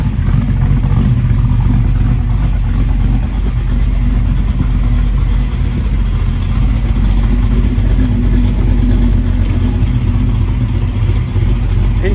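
A 1978 Pontiac Trans Am engine rumbles steadily and loudly while the car is driven, a constant deep drone with mild swells in revs throughout and no talking.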